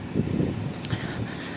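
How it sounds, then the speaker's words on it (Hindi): Strong wind at a cold, high-altitude lake near Leh rushes and buffets the microphone in low, rumbling gusts for the whole moment. "और बहुत ज़्यादा तेज़ हवा चल रही है"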